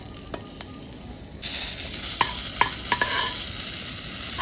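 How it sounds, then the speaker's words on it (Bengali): Dried and green chillies drop into hot mustard oil, and a loud, steady sizzle bursts up and continues with crackles and a few stirring clicks. "এই সর্ষের তেলের মধ্যে শুকনো লঙ্কা কাঁচা লঙ্কাটা দিয়ে দিলাম।"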